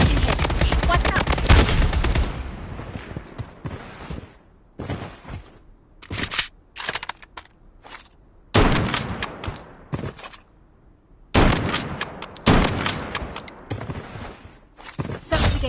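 AK-47 fire in the shooter game BloodStrike: loud bursts of automatic gunfire in rapid rattling strings, broken by short pauses and single shots, with game effects in the gaps.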